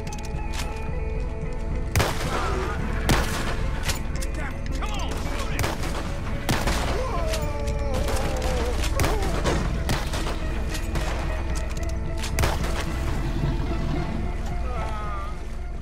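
Repeated sharp gunshots ring out in a Red Dead Redemption 2 shootout, loud irregular bursts over a rumbling wagon or boat and surrounding din.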